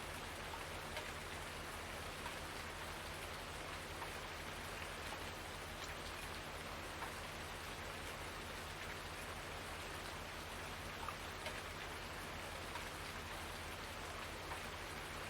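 Steady rain falling in the Farming Simulator 19 farming game, an even, unbroken hiss of rainfall that stays soft and constant throughout without any voices.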